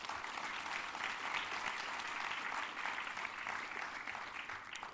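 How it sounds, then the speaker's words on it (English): An audience at a conference panel applauds in a steady, continuous patter of many hands clapping, moderately distant, with no voices over it. "A big round of applause to our great panel."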